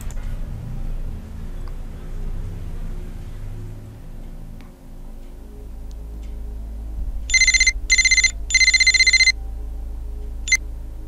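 A telephone rings in a detective adventure game, two short electronic ring bursts followed by a longer one, loud and clear over a quiet background, with one brief click afterward.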